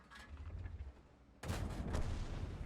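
Muffled tank gunfire from World of Tanks, a T92 firing as one heavy boom that cuts in midway over a rumbling low background, after an earlier softer thump.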